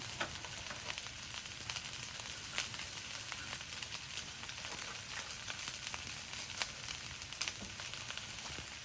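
Bean sprouts stir-frying in a pan for shrimp fried rice give off a steady, close crackling sizzle with sharp little pops, with no talking.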